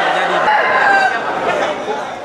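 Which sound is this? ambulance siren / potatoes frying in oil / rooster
rooster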